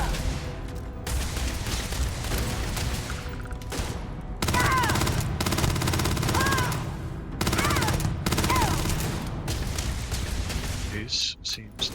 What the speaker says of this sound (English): fighting in 0G with the ballistic weapon